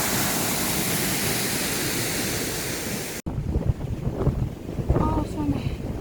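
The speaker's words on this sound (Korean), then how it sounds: "구룡폭포입니다." Guryong waterfall in strong wind, a loud broadband roar of falling water and wind buffeting the microphone, then a cut to quieter gusty wind noise with a voice talking.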